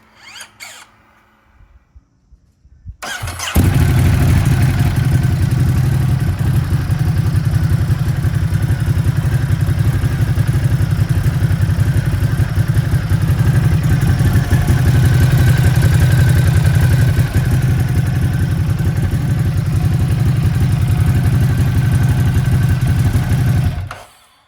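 A 2023 Ducati Hypermotard 950 SP with a clear clutch cover fires up after a quiet moment and settles into a loud, steady, close idle with a rough, clattering mechanical texture, continuing for about twenty seconds before cutting off.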